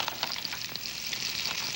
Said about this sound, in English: A Ruffles potato chip that sizzles.